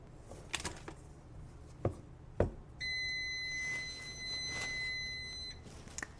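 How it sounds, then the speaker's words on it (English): A kitchen timer sounds a steady electronic beep tone for about three seconds midway, preceded by a few sharp kitchen knocks and clatters, with a sauce simmering on the stove nearby. "My timer was getting ready to go off"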